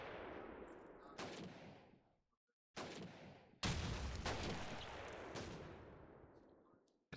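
Shots are traded in a Call of Duty 2 tournament match: a handful of sharp, separate gun reports, each with a long echoing decay, spaced over several seconds with brief silences between, and no talk.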